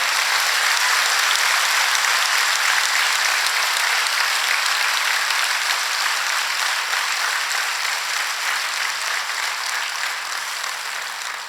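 An audience at a saints' gathering claps loudly in sustained applause, dense and even, slowly tapering toward the end, with no talking.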